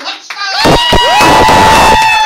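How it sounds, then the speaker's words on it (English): Audience cheering for a comedian at a stand-up show in Horsham, a loud crowd roar with shouts and whoops that swells up and holds, with a high whistle-like tone running through it. "Ladies and gentlemen, please give it up, make some noise for Mr. Martin"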